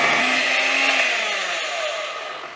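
An electric hand mixer whirs loudly at close range as eggs are beaten one at a time into cake batter, a steady high buzz that slowly winds down in pitch and volume.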